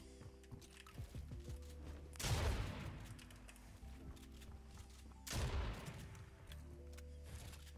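Two heavy gunshot blasts about three seconds apart in a video game, each with a short ringing decay over a steady background of game music and ambience.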